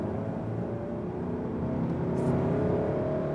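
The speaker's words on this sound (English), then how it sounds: "in this dynamic mode, let's accelerate from 70 to 100, see what that" Volvo V90 Cross Country D5 diesel in dynamic mode accelerating from 70 to 100 km/h, a steady low engine drone and road roar that swells slightly louder toward the end, heard from inside with no talking.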